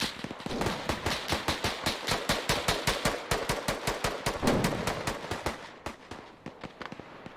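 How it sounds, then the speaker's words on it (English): Machine gun fires in a video game battle on the Raate Road, sending a long, steady run of loud, evenly spaced bursts that keeps up for several seconds and then tapers off near the end. "Now you're hearing that machine gun also firing off."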